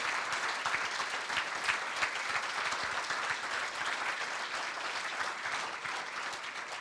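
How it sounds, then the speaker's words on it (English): Sustained applause from an audience at a conference closing, dense and steady clapping filling the room from start to finish. "Please stand up and please applaud to them."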